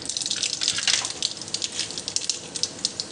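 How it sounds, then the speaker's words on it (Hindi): Mustard seeds go into hot oil in a kadai for masala dosa and give a steady, loud hiss with fine crackling and popping close by. There is no speech. "अब मैं इसमें"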